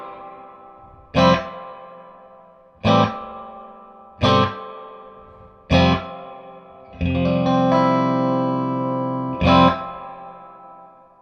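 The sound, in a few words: reverb on Matchless Chieftain guitar amplifier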